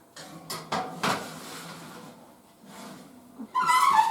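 Heavy whole herb-seasoned chicken going into a home oven: a few clattering knocks of pan and rack, a quiet pause, then a scraping metallic rattle as it slides onto the low rack.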